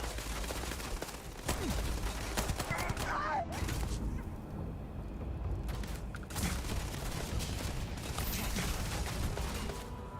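Missiles launch and explode during space combat in the game Starfield, a dense barrage of booms and rapid blasts with brief mechanical noises, loud and continuous throughout.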